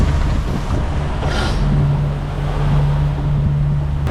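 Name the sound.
boat hitting ocean waves while crossing the Mooloolaba bar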